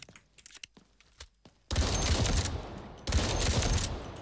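Rapid automatic gunfire from a new weapon in the shooter game Delta Force, two loud sustained bursts with a short gap between, following a stretch of quieter clicks and handling noises, with no voices.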